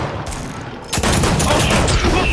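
Gunfire in the Fortnite battle royale, a loud burst of rapid shots crackling densely for over a second after a brief quieter lead-in.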